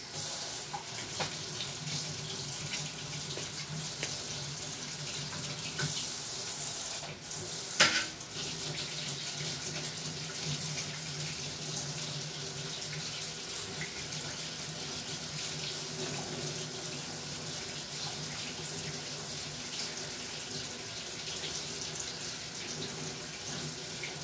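Hot water runs steadily from a tap into a sink, a constant close hiss and splash throughout, with one brief clatter near the middle.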